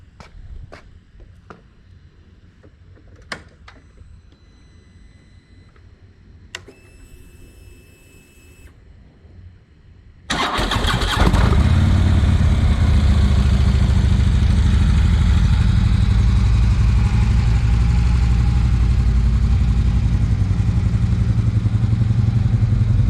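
A 2015 Harley-Davidson Street Glide starts up after some quiet clicks and ticks, then settles into a loud, close, steady idle rumble that continues to the end.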